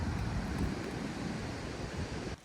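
Ocean surf at an isolated South African beach campsite, a continuous broad wash of waves mixed with wind rumbling across the microphone, steady and moderately loud with no voices.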